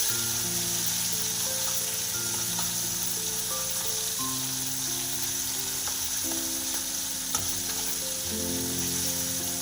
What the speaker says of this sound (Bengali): বাকি মাছগুলো আবারও একইভাবে ভেজে নেব